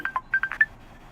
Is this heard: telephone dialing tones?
yes